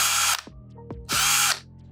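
Tonfon 3-in-1 rechargeable impact drill whirs in two loud, close bursts, each winding down abruptly as the trigger is released and the brake engages, with quiet pauses between.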